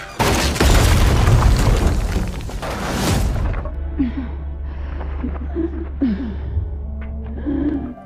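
Grenades go off in a zombie film, a loud, deep boom with a roaring blast that rings out for a few seconds, then gives way to a low rumble with scattered faint cries and movement.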